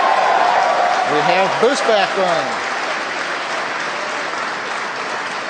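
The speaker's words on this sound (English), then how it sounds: "You can hear the applause in the background from the SpaceX team gathered around the Mission Control Center" The SpaceX team gathered in Mission Control applauds during a rocket landing. Steady crowd clapping fills the background beneath a clear announcer's voice on a communications loop.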